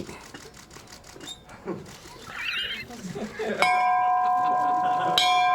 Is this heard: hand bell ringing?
yes